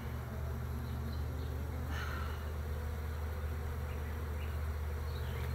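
Honeybees swarm and hum steadily around an opened hive in a garden, a dense, continuous droning buzz that is close and fairly quiet and holds an even level throughout, with no talking.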